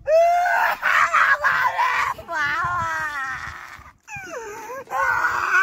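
A person wails and sobs loudly in rising and falling cries, practising crying ahead of a Bangladesh–New Zealand cricket match, with short gaps between the drawn-out howls.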